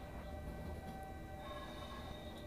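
Steady low rumble of a long freight train rolling in Train Simulator 2022, an intermodal container service between Ústí nad Labem and Děčín, with faint tonal whines over a constant bed of noise and no talking.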